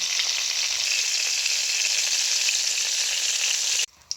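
Cauliflower florets fry in hot oil for a Bengali rohu fish curry with potato, a loud, steady, dense sizzle that holds evenly before cutting off abruptly near the end, with no voices.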